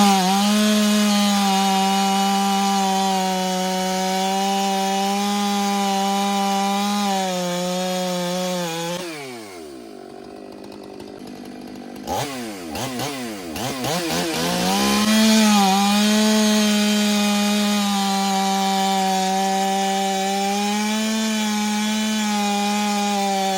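A Husqvarna chainsaw running an X-Cut chain saws through a log, a loud sustained engine drone that bogs and shifts as the chain bites into the wood, then revs back up.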